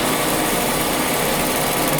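A lathe cutting acrylic, a loud steady high-pitched whir and grinding hiss that holds constant throughout with no pauses and no voices.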